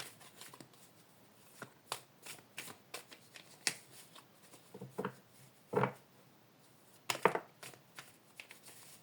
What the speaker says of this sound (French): On va positionner les cartes.